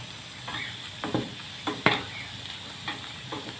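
Boiled pasta being stirred in a pot with a spoon, soft irregular scraping and knocking strokes close by, a few sharper clinks among them over a quiet hiss.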